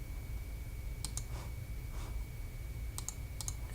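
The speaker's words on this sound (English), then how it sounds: "I'm just right clicking and doing the copy, and then right clicking and then doing the paste" Faint mouse clicks in short pairs, a few spaced bursts against a quiet steady hum, as a computer mouse is right-clicked while working in MS Office Publisher.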